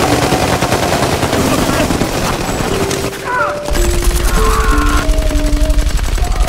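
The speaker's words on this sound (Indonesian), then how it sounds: "para musuh mulai menyerang, sehingga baku tembak pun terjadi" A film shootout rattles with dense, loud rapid gunfire that runs continuously from start to finish, with an even heavier rapid burst in the second half.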